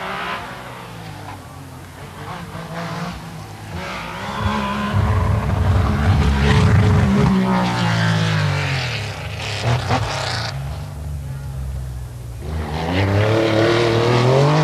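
A rally car in the 1984 Circuit of Ireland Rally, stuck in second gear, roars close by with a strained, rising and falling engine note and tyre noise while a commentator talks over it.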